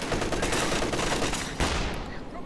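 Continuous dense auto-cannon fire from a Sherman tank in a video game, heavy rapid shots blending into a loud sustained roar with a sharp extra blast near the end.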